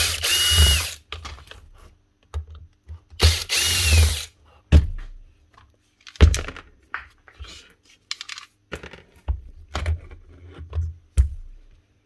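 A power tool drives out the motor screws on a Bosch professional hammer drill during a repair, in repeated loud bursts of whirring and ratcheting separated by short pauses, close up.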